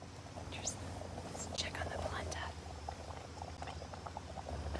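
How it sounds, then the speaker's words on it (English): Polenta bubbles in a pot on the stove as soft, faint blips and pops rise over a low background hum, continuing steadily at close range. "Polenta's bubbling up."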